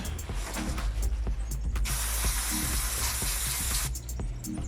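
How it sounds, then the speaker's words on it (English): Brake cleaner sprayed onto the rear drum brake shoes of a Skoda Fabia or VW Polo, a steady loud hissing burst lasting about two seconds amid clicking and clanking of metal parts nearby, with no talk. "I just want to use a little bit of brake cleaner fluid"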